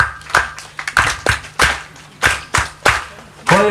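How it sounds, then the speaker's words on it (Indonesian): Hand claps ring out in a church congregation, sharp separate strikes in an uneven rhythm, roughly ten over a few seconds, fairly close and loud with no talk over them. "saya rindu saudara tepuk tangan ikut saya"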